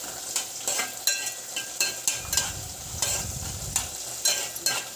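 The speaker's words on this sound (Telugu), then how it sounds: "అంటే గరిట తిప్పి కలుపుతున్నాను" A ladle scrapes and stirs through upma tempering frying in a pan, rhythmic metallic strokes over a soft sizzle, close and fairly quiet.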